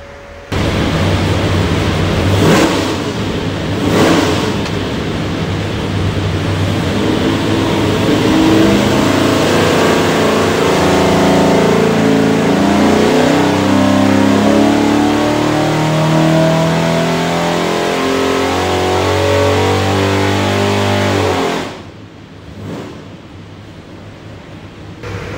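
A 489ci big block Chevy V8 with a Quick Fuel carburetor and MSD ignition roars steadily at high load on an engine dyno for over twenty seconds, loud and close, then drops off abruptly near the end.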